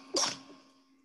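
A single short, sharp sneeze from a person indoors, close and fairly loud, trailing off quickly into near silence.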